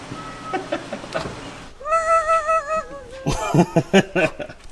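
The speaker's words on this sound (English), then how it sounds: "our vacuum pump is the goofy thing that this diesel has, and that's what's making the funny noise" A diesel farm truck's worn vacuum pump gives an odd whining squeal, a wavering, pitch-bending tone lasting about a second, set between clicks and knocks from the engine bay, with what sounds like brief talk near the end.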